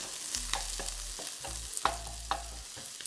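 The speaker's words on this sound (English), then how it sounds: "I'll pop my garlic in with the onion, and I'm gonna give this a really quick mix." Garlic and onion stir-fried in a hot wok, with quick scraping strokes of the utensil over a low, steady sizzle. A handful of sharp clacks break through, and no one speaks.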